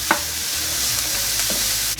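Carrots for a shepherd's pie fry in a pan, giving a steady close hiss with a couple of light utensil taps. There is no talking.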